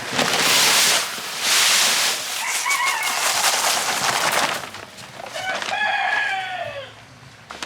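Chicken feed, a layer ration, poured into a feed mixer on a small farm: two loud rushing bursts of pouring grain, followed by a rooster crowing nearby.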